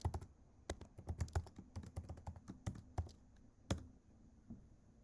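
Laptop keyboard typing a login username and password, quick irregular clicking keystrokes close by and quiet, with a brief pause before a final few taps.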